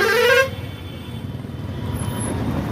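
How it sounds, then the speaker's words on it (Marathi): A single vehicle horn blares loudly for about half a second in heavy road traffic, followed by the steady rumble of engines and passing vehicles. "हॉर्नचा आवाज जोरात येतो"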